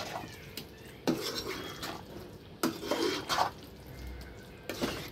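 Aviyal vegetables stirred in a pot with coconut and coconut oil, giving soft scraping and clinking of a spoon against the pot in a few distinct strokes over a low, continuous kitchen hiss.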